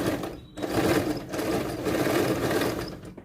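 A sewing machine stitches a pleat on a cargo pocket, its fast mechanical clatter running loud and close in two bursts separated by brief pauses.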